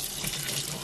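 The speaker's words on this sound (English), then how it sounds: "fill the jar with cold water and let it firm up some" Cold tap water pours steadily into a jar during butter making with a Gem Dandy butter churn, a close, even rushing hiss with no pauses.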